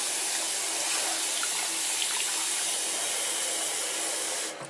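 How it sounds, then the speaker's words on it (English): A strong half-inch stream of water at about 15 psi pours onto a Bolkin Hybrid Armor waterproof phone case, a loud, steady rushing hiss that continues unbroken before cutting off at the very end. "It's about a 1/2 inch stream of water at about 15 psi, and that's a pretty strong stream."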